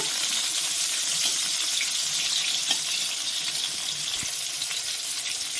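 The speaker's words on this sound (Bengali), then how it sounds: "এবার একটু গ্যাসটা বাড়িয়ে একটু ভেজে নিয়ে তুলে নেব।" Boiled, softened pointed gourd fries in a pan over raised gas heat, a steady bright hiss of oil that stays close and fairly loud throughout, with a few faint knocks and no talking.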